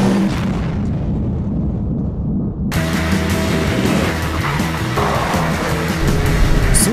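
Skoda Fabia III Combi estate car pulling away from a standing start in a race against a dog sled, a loud rough engine roar that swells sharply partway through and continues steadily without speech.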